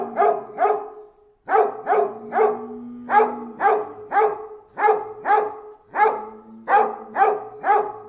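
Livestock guardian dogs bark in steady repeated volleys, several close, loud barks at a time with short gaps between bursts, and no voices.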